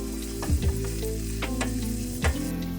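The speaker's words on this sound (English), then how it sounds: "Saute until fragrant." Minced garlic sautéing in a hot pan with salt and pepper, a steady close sizzle with a few scraping stirs of the spoon breaking through.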